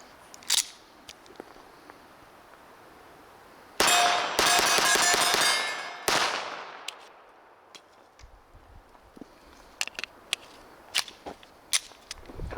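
A Walther CCP M2 .380 handgun fires sharp single shots, first isolated reports, then a rapid dense string of shots lasting about two seconds, followed by scattered sporadic reports, loud and close outdoors.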